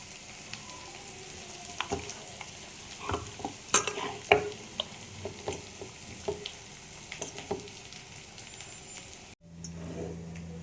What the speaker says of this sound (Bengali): এবার পেঁয়াজ ভাজা হয়ে গেছে